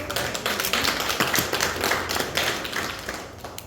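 Clapping from a Rotary district education academy audience welcomes a training committee member, a dense, steady patter of many hands that holds for several seconds at a moderate, fairly close level with no talk over it.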